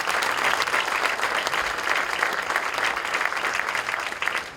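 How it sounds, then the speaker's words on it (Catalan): A crowd claps steadily throughout a political party's candidate list presentation on Formentera, a moderately loud, continuous patter of many hands with no voices over it. "sí que demanaria un aplaudiment per ells."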